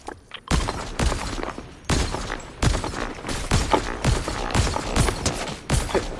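Rapid gunfire in a squad-based shooting video game, with dense, repeated bursts of loud, sharp shots that keep going almost without pause across the whole stretch.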